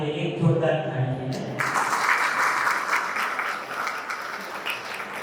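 Speech gives way to a sudden, sustained burst of crowd applause for honoured guests at a retired police civil staff association event, continuing evenly to the end.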